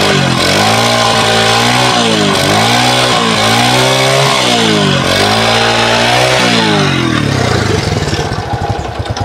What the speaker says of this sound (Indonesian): dengerin mesinnya ya, suara mesinnya halus atau kasar gitu